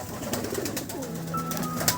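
Pigeons kept in a home loft coo in low, rolling tones close by, under a noisy, hissy background with a few sharp knocks.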